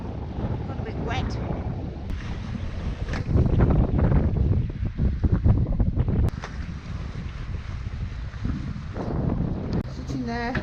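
Wind and water rush steadily past a Dazcat 1150 catamaran sailing up Loch Sunart in Scotland, with gusty microphone buffeting and sloshing that swell midway, continuous and close throughout.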